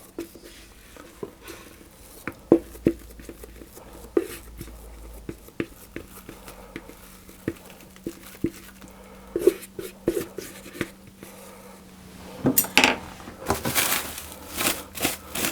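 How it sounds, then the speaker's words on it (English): Lebkuchen spiced biscuit dough scraped from a bowl into a smaller bowl lined with plastic wrap, heard as soft sporadic scrapes and taps, close and quiet, with a louder rustle of plastic near the end. "I'm going to scrape the dough into that bowl"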